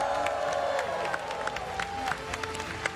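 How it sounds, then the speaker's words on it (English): A crowd at a charity show cheers on a running speaker, a murmuring roar of voices with scattered claps and shouts under a voice talking over it. "I think he heard us cheering."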